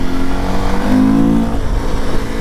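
A Honda XRE 300 Rally motorcycle engine revs up on a night ride. The tone is steady, loud and close, with a rising whine in the middle of the burst.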